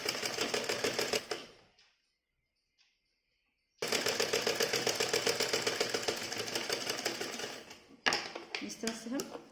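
A sewing machine stitches a blouse in fast, steady bursts, running for about a second, pausing in silence, then running continuously for several seconds before a final short burst.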